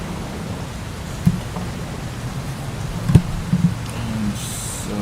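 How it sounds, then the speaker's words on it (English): Steady rain falls in a bus-driving game, Bus Simulator 18, a dense even hiss with a few brief thumps and crackles scattered through it, continuous and fairly loud. "I'm going to do this as rainy day instead"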